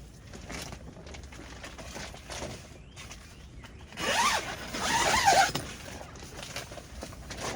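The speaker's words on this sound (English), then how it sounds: "It is hot, so I'm going to open up this flap and get some airflow in here." The zipper on the flap of a small garden greenhouse is pulled open in one brisk, scratchy run partway through, after a few quiet rustles and handling noises nearby.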